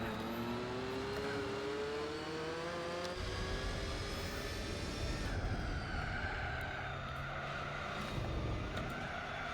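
A race car engine in Gran Turismo 4 revs hard, its whining pitch climbing and resetting through gear changes, steady and fairly close, with no talking.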